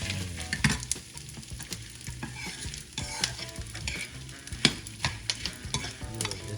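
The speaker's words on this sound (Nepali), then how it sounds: "यो गुँडलाई फ्राई गरेर घिउमा" Jaggery frying in ghee for postpartum spice mix crackles and sizzles loudly up close, with frequent rhythmic stirring scrapes and clatters throughout and no speech.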